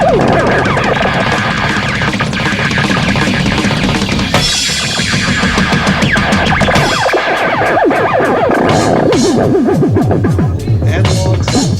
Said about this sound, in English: Analog synthesizer.